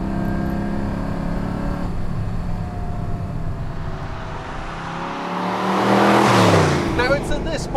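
A De Tomaso Pantera powers out of a corner, its engine roaring continuously and swelling to a loud, close peak as it surges past, then easing slightly.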